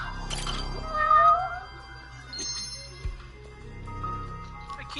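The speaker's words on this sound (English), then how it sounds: "A kitty cat" A cat meowing inside a PS4 video game, a drawn-out tonal mew near the start followed by softer game noises and a dull thump, with a player's voice talking over it.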